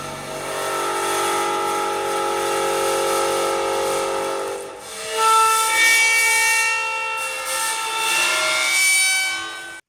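Bass bow drawn across pitched metal percussion such as vibraphone, producing sustained eerie horror-movie tones: one long droning stroke that fades, then a brighter, shimmering second bowed tone with layered ringing overtones, fairly loud and alone.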